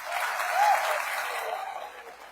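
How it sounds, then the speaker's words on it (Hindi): A crowd at a Dhanwantari distributors' gathering breaks into applause, a broad, fairly loud wash of clapping that swells slightly and then tapers off. "ये तालियों की गुंजाइश"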